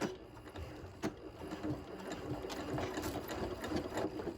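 Home sewing machine back stitching through a fabric quilt binding, a steady close mechanical whir with rapid needle clatter running throughout, a brief knock near the start, with no talking.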